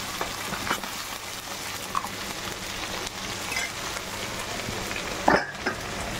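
Onion, tomato and ginger-garlic paste fry in a pan with a steady, moderate sizzle and crackle, broken by a few soft clinks of stirring, no voices.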